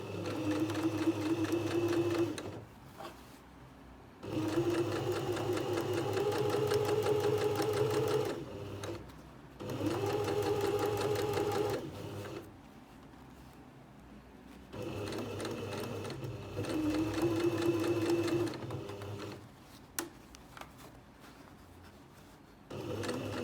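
A sewing machine stitches a v-neck facing in several bursts of rapid whirring, each a few seconds long and separated by short pauses, close and clear with no talk.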